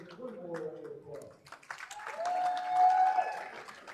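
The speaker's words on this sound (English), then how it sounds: "Let's give all of our seniors one more round of applause." A high school swim and dive senior-night crowd applauds its graduating seniors. Scattered clapping and a rising cheer follow a brief stretch of voices, with a sharp whistle-like tone standing out partway through.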